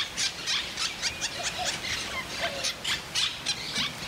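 Parrots in trees at a campground in La Paz, Mexico squawk continuously, a flock of overlapping harsh, shrill calls repeating rapidly at moderate distance.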